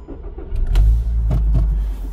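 A VW Jetta MK6 engine cranks and catches, a short starter whirr followed by a loud, close low rumble that settles into a steady idle.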